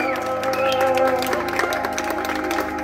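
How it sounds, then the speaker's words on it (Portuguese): Clapping at a husband's surprise birthday celebration, scattered hand claps heard beneath music with a steady tonal backing, moderately loud throughout the short stretch. "Pode bater palmas que o nosso homenageado merece."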